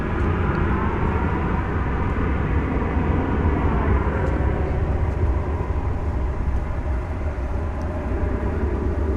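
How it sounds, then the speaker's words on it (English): An American Airlines Airbus A321 at DFW Airport on the runway at night, a loud steady broadband jet engine roar close by, holding constant throughout with no talk. "Here goes American Flight 509. It's going to Sacramento, California. It's an Airbus A321 right here on Runway DFW."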